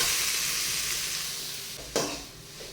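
Cabbage poriyal frying and being stirred in a clay pot, a steady close sizzle with a brief sharper scrape near the end, no voices.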